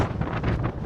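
Strong wind buffets the microphone at Pico do Arieiro, Madeira's cold mountain peak, a loud continuous low roar with no voices.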